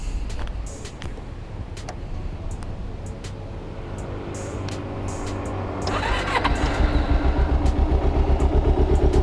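A 2009 Kawasaki Ninja 250R Limited Edition motorcycle with a modified carburetor filter runs nearby, its engine rumbling and then settling into a louder, steady, smooth idle with a deep bassy pulse.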